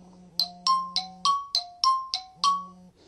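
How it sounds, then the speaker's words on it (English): Several iPhone default alert tones play one after another, about eight bright, bell-like chimes each striking sharply and ringing out briefly, close and clear with no talking. "And then we've got ringtones like this, and we've got a little bit more,"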